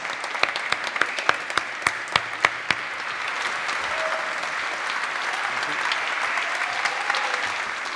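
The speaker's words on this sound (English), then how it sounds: "Big applause for the musicians." An audience applauds for the musicians, starting with a few sharp individual claps and then swelling into steady, dense clapping that carries on.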